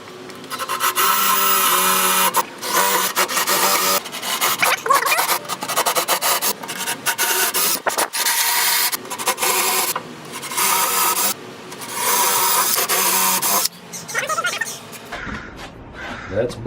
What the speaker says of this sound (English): I don't want to drill through the tabletop, so we're just going to drill down 1 inch